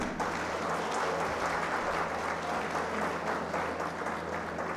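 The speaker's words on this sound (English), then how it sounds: "a big round of applause for them" A large audience at the Smart India Hackathon 2023 valedictory ceremony at PIET claps steadily and loudly throughout, a dense, continuous wash of applause with no pauses.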